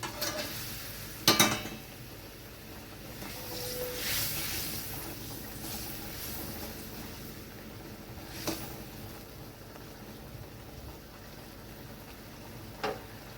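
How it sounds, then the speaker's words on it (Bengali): Pabda fish fry in a pan with a faint, steady sizzle, broken by a few sharp clanks and scrapes of a utensil against the metal, quiet and close with no talk. "এবার আমি মাছগুলো দিয়ে দিচ্ছি"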